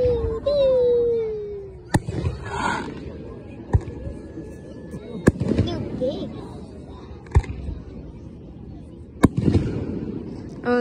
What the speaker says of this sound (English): How do they get such big fireworks?